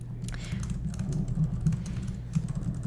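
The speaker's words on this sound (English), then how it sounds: "Okay, so I just typed this up really quick." Quick typing on a computer keyboard, with a steady stream of close, soft key clicks throughout and a low hum beneath.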